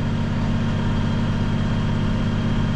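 A farm tractor engine idles at about 1,000 rpm in a steady, loud, low drone with a strong rumbling hum and an even, unbroken tone, with no talking.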